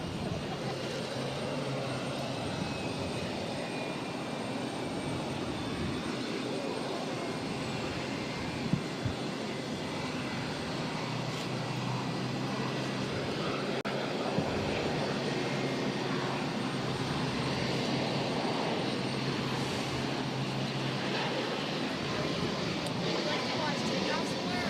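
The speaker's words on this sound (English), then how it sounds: "This is Frontier Flight 3001 taking off to San Juan" A Frontier Airlines A321neo jet taking off from Boston Logan bound for San Juan, Puerto Rico, a long steady broadband roar with a faint whining tone, while people talk throughout.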